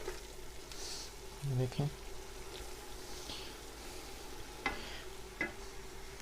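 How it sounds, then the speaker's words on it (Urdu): Onion and masala for a beef kofta curry are fried and stirred in oil in a pot, a soft steady sizzle broken by a few spoon scrapes and clinks, with a brief spoken word over it. "ہمارا پیاز اور مسالہ کتنے اچھی طرح سے بھون چکا ہے"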